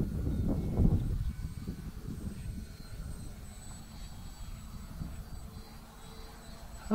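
Flite Test Freedom Fox V2 RC plane at three-quarters throttle on a maiden flight, a steady buzzing electric motor drone passing nearby, louder at first and then easing off into the distance.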